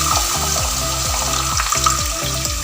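Dal sizzles and fries in a clay pot while a spoon stirs it in regular scraping strokes, a loud continuous crackle with rhythmic stirring throughout.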